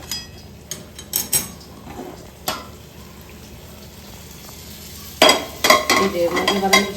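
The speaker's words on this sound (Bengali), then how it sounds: "এর মধ্যে এবার একটু আমি জল দিয়ে দেবো।" Water poured into a hot pan while cooking an egg bhujia dish brings sharp spatters and clatter, then settles into quiet simmering before a burst of loud sizzling and stirring near the end.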